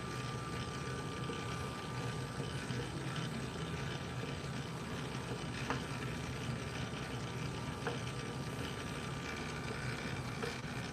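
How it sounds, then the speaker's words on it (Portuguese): A commercial dough mixer churns colomba pascal dough with ice water at steady speed, a constant dense motor hum and whir with a faint high whine, unbroken and fairly close throughout. "Daí agora a gente muda para velocidade alta e vai bater até ponto de véu."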